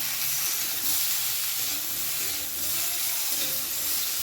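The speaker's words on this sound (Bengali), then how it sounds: "দিয়ে দিলাম গ্রেট করা আদা" Grated ginger hits a hot pan, giving a loud, continuous hissing sizzle with steam that holds steady throughout, no voices.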